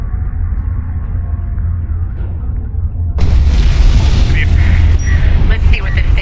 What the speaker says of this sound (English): The orbital weapon is now at our disposal.